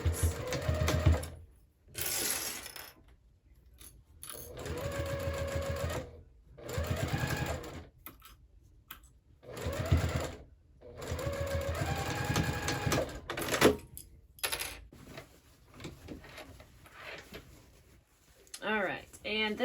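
A sewing machine stitches the lining seam of a handbag in repeated short bursts with gaps between them, close by. Near the end a few quieter mechanical sounds follow.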